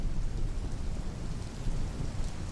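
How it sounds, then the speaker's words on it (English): Thunder rolls low and steady beneath a constant hiss of falling rain, a dense storm soundscape with no voices. "I can't make the thunder go away,"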